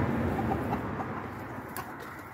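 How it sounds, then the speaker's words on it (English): Chickens coo and cluck softly over a steady low background rumble on a winter morning, with a few brief higher chirps near the end. "Birds are coming in."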